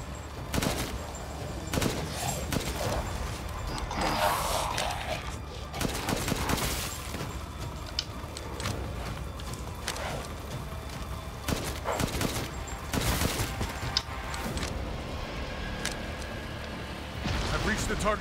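Rapid bursts of gunfire in Resident Evil Village, repeated sharp volleys scattered across the stretch amid game ambience, with a voice talking at points.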